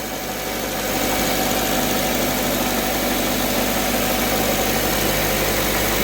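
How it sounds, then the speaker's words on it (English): Mazda 2 (Demio) engine idling at raised revs after a cold start, a steady, dense mechanical hum with faint ticking, close by and unbroken. "The engine need to warm up first, and then the RPM will go right down."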